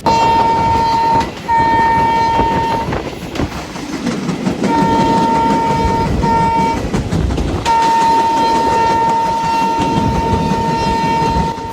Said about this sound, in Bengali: ট্রেন যত জোরে চলতেছে দেখতে পারতেছো